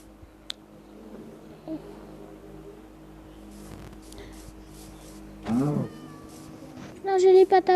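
Small cat meowing inside a survival video game, a couple of short mewing calls rising near the end after a stretch of quiet game ambience, with a voice talking at moments.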